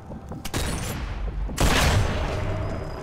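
Bursts of rapid gunfire in Sniper Elite 4 ring out over a dull rumble, with a louder explosive blast about halfway through.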